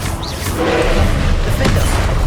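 A Confringo fire blast spell explodes in Hogwarts Legacy, a dense crackling burst with a sharper impact midway, set within constant loud game noise.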